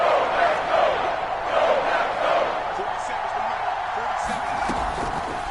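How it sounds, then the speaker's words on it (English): A football stadium crowd roars loudly ahead of a big third down in a Vikings game, a dense swelling cheer with scattered whoops, then settling into a steady rumble. "The crowd getting into it as we come up on a big 3rd down"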